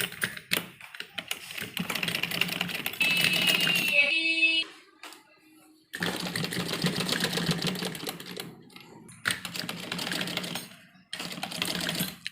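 A sewing machine stitches a child's Afghani salwar in rapid, close bursts separated by short pauses, with one brief high-pitched whine and a few soft clicks between runs.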